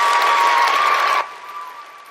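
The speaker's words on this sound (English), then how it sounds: "Guys, clap for these Alaska kids coming all the way down here for Grand Nationals." An audience applauds the Kenai Central Band from Alaska at a marching band Grand Nationals, a dense burst of clapping that drops sharply after about a second to a faint tail.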